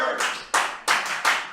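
A small studio crowd claps in bursts during a live talk show, four distinct rounds of close, bright clapping separated by brief pauses.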